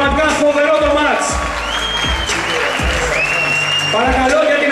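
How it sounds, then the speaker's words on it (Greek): Audience applause with cheering and whoops after a match, loud and sustained throughout, with voices in the crowd and an announcer talking over it. "Κυρίες και κύριοι, χειροκροτήστε τον Δημήτρη και τον Χάρη."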